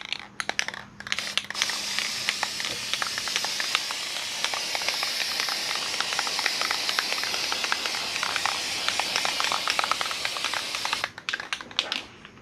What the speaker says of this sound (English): I'm gonna be using flat black spray paint.